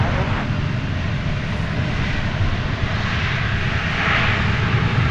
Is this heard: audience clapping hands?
no